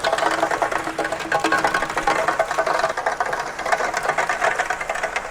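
A horizontal walnut peeling machine runs continuously at close range, a loud, dense mechanical rattle and whir with fast irregular knocking as the walnuts tumble, its speed being raised.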